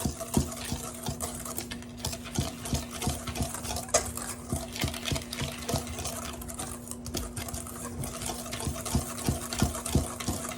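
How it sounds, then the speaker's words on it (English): Hand whisk stirring flour and sugar together in a mixing bowl, a steady series of light scraping taps and swishes against the bowl, close and continuous, with no talking. "take your hand whisk and let's whisk this together"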